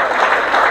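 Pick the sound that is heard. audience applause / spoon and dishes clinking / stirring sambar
audience applause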